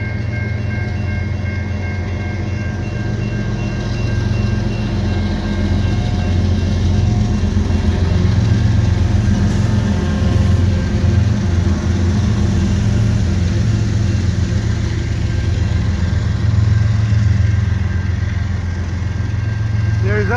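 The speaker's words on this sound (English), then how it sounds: "there you got the train heading westbound with a whole lot of tankers" A long CN freight train hauling many tank cars rolls past westbound through snow at St Ambroise Street, a loud steady rumble of wheels and cars with a faint horn tone, continuous and close throughout.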